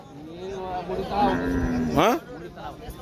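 A cow moos loudly nearby at a cattle market, a long low call rising in pitch at the end, with faint background noise.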